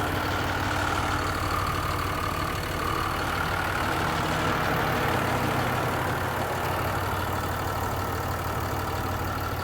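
Rebuilt 5.9 engine in a 2006 Dodge Ram Mega Cab idling steadily at moderate volume, a continuous low rumble with faint ticking and no other activity.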